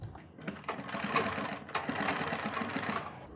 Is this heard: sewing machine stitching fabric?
yes